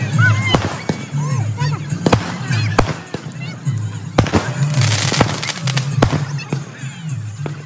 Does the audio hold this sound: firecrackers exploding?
yes